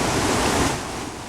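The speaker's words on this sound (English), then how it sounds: "There's the waterfalls at" A waterfall near Balquhidder in Scotland gives a loud, steady broadband rush of falling water, close and unbroken, with no voices.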